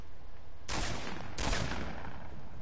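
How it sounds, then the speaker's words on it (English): Two loud bursts of gunfire from the video game Fortnite, each a dense broadband blast lasting well under a second, spaced apart over a low steady background. "Gunfire, gunfire."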